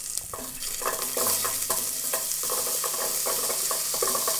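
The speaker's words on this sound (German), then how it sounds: "Und in Butterschmalz anbraten." Diced bread or onion cubes sizzle and fry in clarified butter in a pot on a German cooking show, with steady crackling and repeated stirring scrapes throughout, close and alone.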